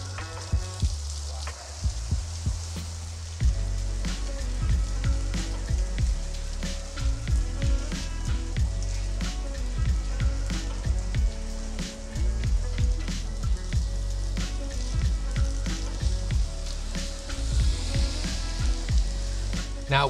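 Rain pours onto a Bangkok street in a constant hissing, sizzling wash, with irregular splashes and drips on top and a low rumble beneath, continuing steadily with no voices.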